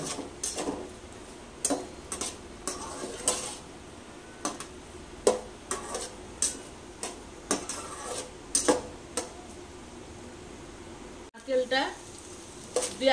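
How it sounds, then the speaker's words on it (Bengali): Grated coconut lightly frying in hot ghee in a pan, soft sizzle running throughout with repeated sharp clinks and scrapes of a spatula stirring against the pan, fairly close and moderate in level. "নারকেলগুলোকে একটু হালকা করে ভেজে নেব।"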